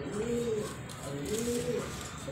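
A racing pigeon coos softly while held in hand, a few rolling, repeated coos close up with light background noise.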